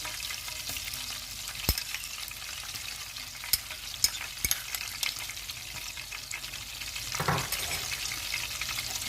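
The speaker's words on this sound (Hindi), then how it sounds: "इसमें मैं बहुत ही बारीक चॉप किया हुआ लहसुन और अदरक डाल रही हूँ, 2 टेबलस्पून।" Finely chopped garlic and ginger sizzle and crackle steadily in hot butter, with occasional sharp pops and the scrape of a stirring spoon.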